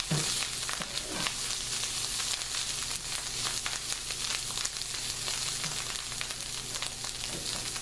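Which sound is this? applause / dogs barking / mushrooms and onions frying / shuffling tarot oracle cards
mushrooms and onions frying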